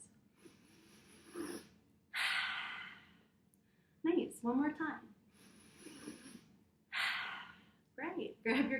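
Quick sniffing breaths through the nose imitate a rabbit, several short bursts of airy inhales, with someone speaking briefly in between.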